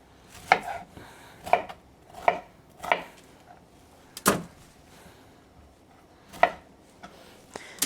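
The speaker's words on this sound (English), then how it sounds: "So all I'm going to do is break it into smaller floret pieces," Cauliflower being snapped apart by hand into smaller florets for a baking tray, heard as about seven sharp, crisp cracks spaced irregularly a second or so apart, close and fairly loud with quiet pauses between.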